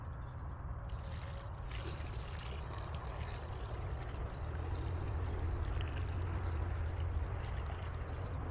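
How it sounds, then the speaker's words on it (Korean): About 3 liters of water poured into a freshly dug planting hole for a blueberry seedling, making a steady splashing, gurgling trickle that continues throughout and swells slightly toward the end. "여기다 물을 부어 보도록 하겠습니다"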